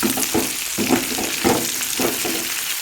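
Chicken with green chillies and onion being stirred in a hot pan, a loud sizzle pulsing with about five rhythmic scraping strokes, close and clear with no voices.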